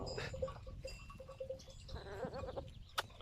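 Several young goats bleat in short, wavering cries close by, one after another, with a sharp higher bleat near the end.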